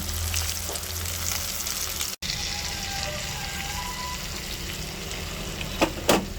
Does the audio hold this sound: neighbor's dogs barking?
no